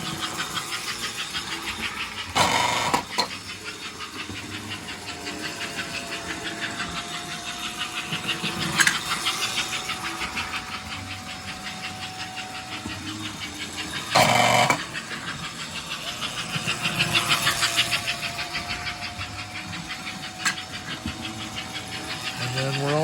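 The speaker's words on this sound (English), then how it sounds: "Watch my train go around." A small motor whirs steadily as an American Flyer model train runs along its track, with periodic rattles and clicks, and a voice speaking at times.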